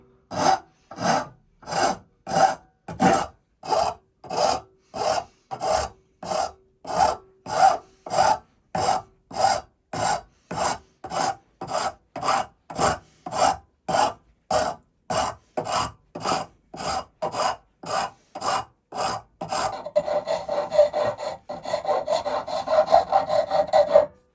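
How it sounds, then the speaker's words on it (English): Rhythmic hand-filing strokes rasp along the edge of a wooden mallet to form a small chamfer, each pass a regular scraping stroke repeated about thirty times, close and clear, quickening into denser rubbing near the end. "we want to create a wee chamfer, just like we done in the corner"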